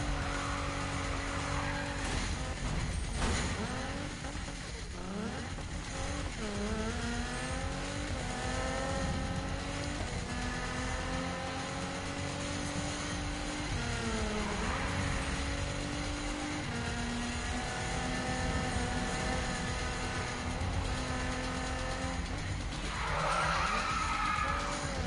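Game car engine from Need for Speed drives continuously for the whole stretch, with rising and falling revs through gear changes, tire skids and squeals, mixed with game music at steady volume.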